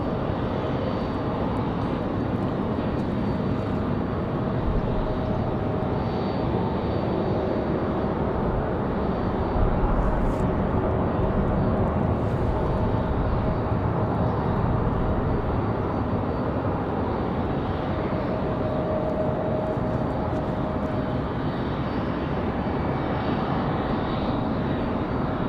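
A FedEx jet takes off down the full length of a runway at Raleigh Durham on a windy day, producing a long, loud, steady engine roar that holds throughout, with no talking.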